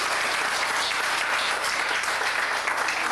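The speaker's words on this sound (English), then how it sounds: "we have a round of applause for your instructors" An audience applauds its instructors, John and Carl, a dense, sustained round of clapping from many people that holds at an even, fairly loud level throughout with no break.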